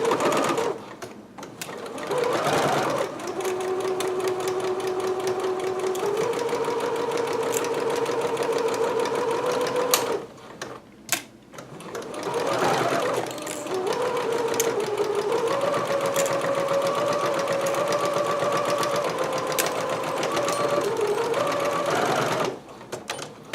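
A sewing machine stitches seams on a vintage-pattern dress in two long steady whirring runs with a rising motor tone, briefly stopping between them with small clicks, close and alone.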